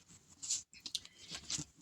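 Flexible oracle cards are shuffled by hand and split, giving soft papery flicks and riffling patters in short bursts with a brief pause, close up and alone.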